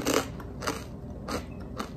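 Someone bites into a crunchy freeze-dried bread and butter pickle, producing four close, sharp crunching bites spaced evenly with quiet chewing between them.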